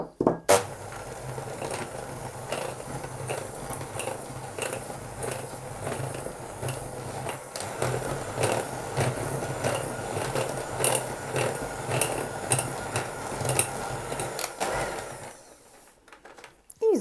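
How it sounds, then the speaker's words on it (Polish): A steady electric mixer whirs continuously for about fifteen seconds, mixing cake batter with cocoa, with rattling, scraping texture, then cuts out near the end. "I znowu mikserem mieszamy."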